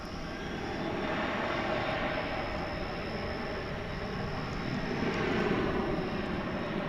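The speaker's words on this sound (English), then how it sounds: "Alaska Airlines Flight 287, making the turn south on runway 18 left." An Alaska Airlines Boeing 737-900 jet taxis and turns at DFW airport, its engines producing a steady, broad, fairly distant roar that holds even throughout with a faint high whine on top.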